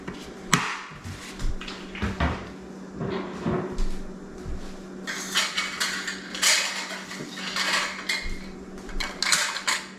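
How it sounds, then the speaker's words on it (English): Metal lids and screw rings go onto glass canning jars filled with chicken stock, giving a series of irregular clinks, taps and scraping twists, close and moderately loud, with brief pauses between jars. "So now it's time to put the lids and the rings on."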